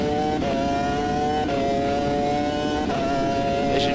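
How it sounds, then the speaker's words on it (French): Formula 1 car engine in the racing sim Automobilista 2, a steady, close, loud high-pitched drone holding a constant tone with brief dips around gear changes, no talking. "Le moteur fait pas le même bruit du tout."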